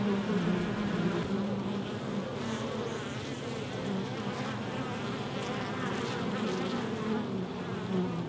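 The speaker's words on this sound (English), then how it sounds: "the bees are not really over keen on it, and that's why quite a few of them have come out" Honey bees swarming at a hive entrance in a UK apiary, where an Apiguard treatment is giving off fumes, a dense continuous buzz of many bees close by with no talking.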